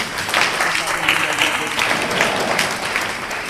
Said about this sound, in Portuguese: Batam palmas para o profeta.